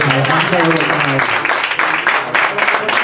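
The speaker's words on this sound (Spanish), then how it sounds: "Un aplauso para Sandra" Audience applause at a book presentation about Nacha Pop in a Segovia bar, steady and fairly loud, with voices mixed in and a tonal background at the start.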